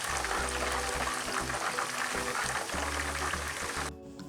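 Banana chips frying in hot oil with a spoonful of margarine: a loud, dense, continuous sizzle with crackling bubbles and low stirring bumps, cutting off abruptly near the end.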